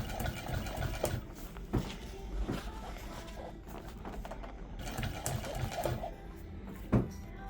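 A sewing machine stitches an upholstery boat seat cover seam with a steady, fairly quiet mechanical chatter, broken by occasional louder thumps of fabric handling.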